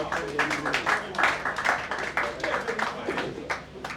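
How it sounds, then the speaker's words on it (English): Audience at a class reunion gala night and awards event clapping, uneven bursts of hand claps with some voices mixed in. "I want you to clap for yourselves."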